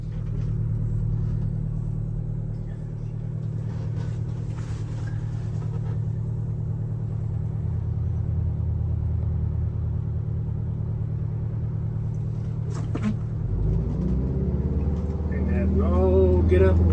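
An old diesel engine that sat for 20 years idles with a steady, heavy low rumble, close and loud, while people talk over it. Near the end the engine note shifts and deepens.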